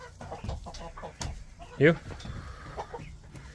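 Chickens cluck close by, with one louder squawking call in the middle, while people chat casually over and between the bird sounds.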